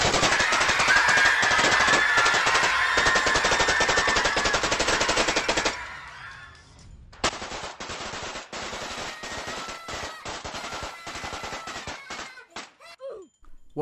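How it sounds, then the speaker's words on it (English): Sustained automatic gunfire rattles loudly for several seconds, pauses briefly, then resumes in rapid bursts before trailing off into scattered shots. "Trainees, do not make me shoot you. Requesting backup. Fire at will."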